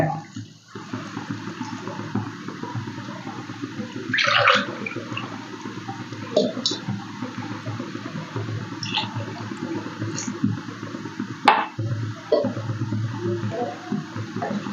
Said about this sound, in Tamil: தண்ணி ஊற்றி நல்லா கலந்து விட்டுருங்க